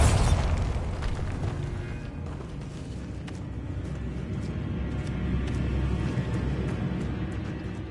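A booming blast from the Bombarda spell effect at a Wizarding World attraction, a loud low rumble that swells at the start and then rolls on steadily for several seconds amid a noisy crowd.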